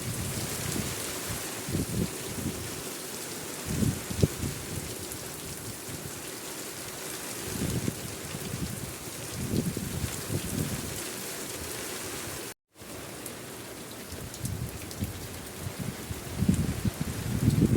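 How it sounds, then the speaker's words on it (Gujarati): Heavy unseasonal April rain pours over open farmland in Gujarat, a loud, steady hiss of rain on the ground with irregular heavier drumming bursts throughout. "કેટલો વરસાદ એ બાજુ વધારે છે"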